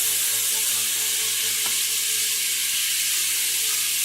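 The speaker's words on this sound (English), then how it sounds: "I like to deglaze it with a little bit of wine" Red wine sizzling and frying in a hot pot while it is deglazed for spaghetti and meatballs, a steady broadband hiss that holds close and loud through the whole stretch, with a faint stirring click midway.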